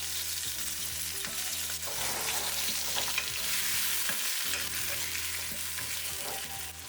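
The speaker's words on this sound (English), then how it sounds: "Now add the potatoes at this point." Potatoes frying in a pot of spiced vegetable biryani base, a steady close sizzle with scattered spoon scrapes and stirring knocks throughout, no talking.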